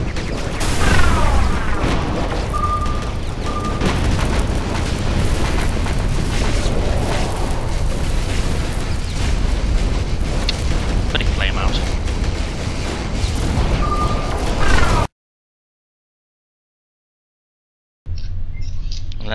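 Repeated bomb explosions and heavy weapon fire in the space game Starfarer, a dense rumbling barrage of booms and mechanical clatter that cuts abruptly to silence before resuming faintly, with a voice talking over it.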